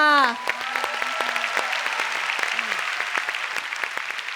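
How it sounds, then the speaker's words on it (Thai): Steady applause from a live television singing-contest audience in Thailand, dense clapping that continues throughout, with a voice briefly heard at the start. "ขอเสียงปรบมือดัง ๆ"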